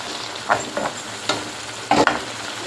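Sea fish curry being sautéed in a pan, a soft steady sizzle broken by a few sharp scrapes and clanks of the spatula, close up and with no voices.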